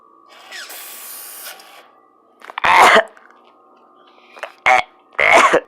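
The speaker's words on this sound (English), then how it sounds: "Cough." Several harsh coughs, loud and close, in irregular bursts after a stretch of hissing spray noise, with quiet gaps between them.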